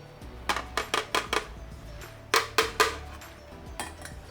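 Roasted garlic cloves dropped into a blender jar: a quick series of hard clinks and knocks against the container, five in a burst, then three more after a pause, close and distinct.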